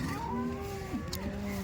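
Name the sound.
cow mooing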